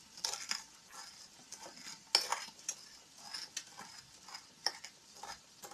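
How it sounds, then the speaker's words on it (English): A spoon crushes crayfish heads in a dish, giving a run of faint scraping, tapping and clinking strokes in an irregular rhythm, close by with no talking. "Then this is how I crush the head of my crayfish. Just use a spoon."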